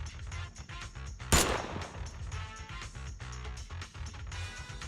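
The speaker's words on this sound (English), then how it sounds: "The sound of gunfire rings out and a barrage of bullets fly toward the two of them" Gunfire erupts in a video game scene with one sharp, loud blast followed by a rapid barrage of bullets over a dense, rumbling music and effects bed.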